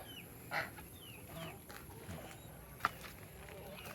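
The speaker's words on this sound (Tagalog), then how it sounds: "yung mga Rhode Island Red natin malaki" Rhode Island Red chickens give a couple of faint, brief clucks and calls at a distance over low background noise.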